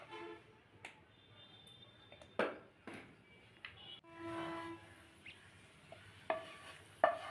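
Turmeric, chili powder and salt frying in oil get stirred around a pan for khichuri, with scattered scrapes and taps of the spoon over a faint sizzle.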